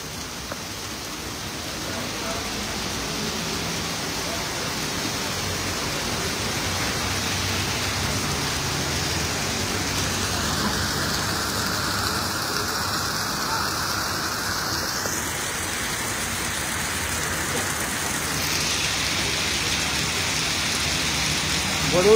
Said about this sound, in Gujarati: વડોદરામાં ધોધમાર વરસાદ શરૂ થઈ ગયો છે.